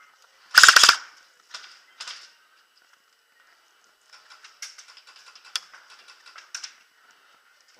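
Airsoft guns fire at an indoor arena, one loud crack followed by a few lighter pops, then a rapid scattered patter of shots striking walls, fairly close and crisp with quiet gaps between.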